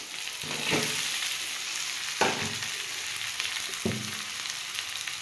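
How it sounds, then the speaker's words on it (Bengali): Boiled potato frying with tomato and onion in a pan gives a steady, low sizzle, broken by three scraping stirs of a spatula, close by with no speech. "আমি এর মধ্যে আলু সিদ্ধটা দিয়ে দেবো"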